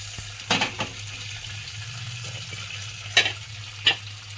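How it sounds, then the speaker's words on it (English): Popcorn kernels in melted butter in a pot, shaken over the heat, give a continuous close sizzle with a few sharp rattling bursts as the pot is jostled, plus a low steady hum beneath, no talk. "After the butter melts, we're gonna put our corn in. We're gonna shake it a little bit."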